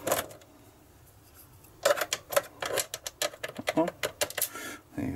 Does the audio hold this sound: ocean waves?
no